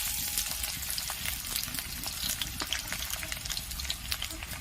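Chopped onion hits oil where red chillies have just fried, giving a dense, close, continuous sizzle with faint scraping from stirring and no talking.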